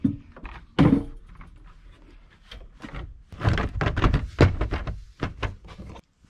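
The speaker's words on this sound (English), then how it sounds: "Let's put the cover on, make sure that fits." Car trunk cover being set into place over a hidden air ride setup, giving a loud thunk, then a series of knocks and taps as it is adjusted and seated, close by.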